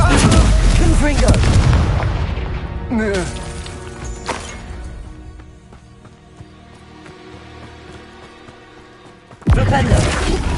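Blasting-spell explosions from the Hogwarts Legacy video game on PS5: loud, booming blasts with crashing debris and rumble. A character voice speaks between the hits, and the noise fades before a final sharp burst.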